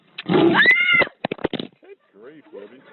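A cat meows loudly and close, one drawn-out cry, while a person talks to it in short bursts that continue afterward.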